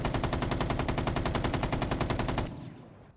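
Rapid automatic gunfire from a weapon in Rainbow Six Siege X, a loud, steady burst of closely spaced shots lasting a couple of seconds before cutting off into a short decaying tail.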